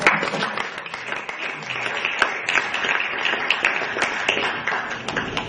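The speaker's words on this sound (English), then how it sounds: "we need to give Donna Rack a big round of applause" A symposium roundtable audience gives a moderately distant round of applause, many hands clapping evenly and continuously throughout.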